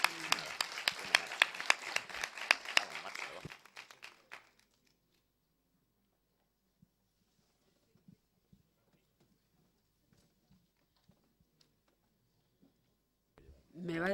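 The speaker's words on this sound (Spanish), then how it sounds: "Vamos a darle un aplauso final." Audience applause closing a mediation conference session in Murcia, a dense burst of clapping for about four seconds that thins out into near silence with scattered faint knocks, then a brief rise of noise at the end.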